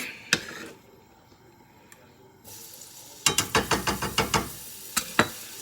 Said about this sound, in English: you're just going to have to sort of fry for a minute, because the main part of this entire thing is fried strawberries